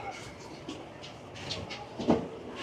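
A circular commuter train rolls along the rails, heard from inside a carriage as a low rumble with soft rhythmic clicks, faint hiss and occasional knocks, moderately quiet.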